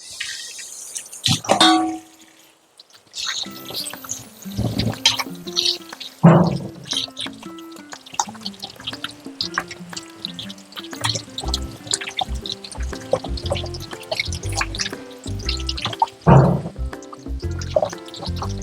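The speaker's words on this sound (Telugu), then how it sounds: "మనం చేపలు క్లీన్ చేసుకుందామండి ముందు" Water poured and splashed over fish being washed by hand, with uneven bursts of pouring, drips and light clanks from a vessel. A tonal melody plays in the background throughout, and no one speaks.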